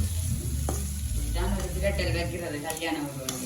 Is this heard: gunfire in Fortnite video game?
no